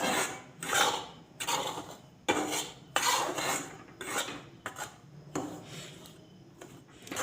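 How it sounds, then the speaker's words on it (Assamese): Atta laddu mixture being stirred in a pan gives repeated scraping and rasping strokes in an irregular rhythm, close and fairly quiet, with no voices. "তাৰপিছত এনেদৰে লৰাই দিম"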